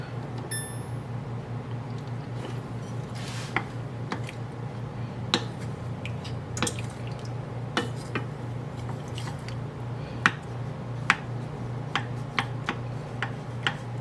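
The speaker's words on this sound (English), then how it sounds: "You're going to let this cook for a bit, just to get up to a simmer." Chicken in red wine and tomato sauce simmering in a pan, a steady low bubbling with scattered small pops and ticks throughout, close and fairly quiet.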